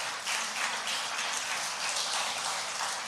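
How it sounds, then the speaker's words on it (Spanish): Church congregation at a Sunday service applauding together, a dense steady wash of many hands clapping throughout, loud and continuous with no break. "Denle un fuerte aplauso, Señor"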